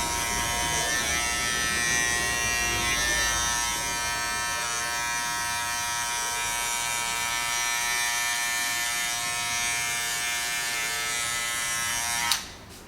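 An electric hair clipper with a 0.5 guard on its second setting buzzes steadily and loudly while cutting hair for a men's social cut. The constant whine continues for about twelve seconds, then cuts off abruptly, and no one talks.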